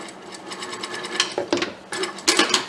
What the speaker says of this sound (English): I am sewing it down both edges, close to the